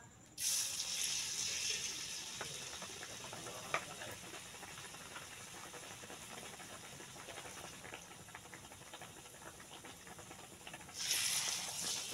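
Tempeh fritters shaped like flip-flops fry in hot oil, giving a steady, soft crackling sizzle with scattered pops that briefly swells louder near the start and the end.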